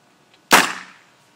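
A homemade exploding film canister cannon fires once: a single sharp, loud bang after near silence, trailing off quickly.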